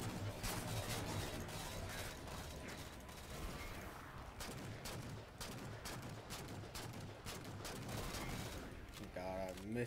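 Gunfire in Halo 4 Spartan Ops: rapid, repeated weapon shots and mechanical clatter crowd a busy, loud battle mix, with a voice talking faintly underneath.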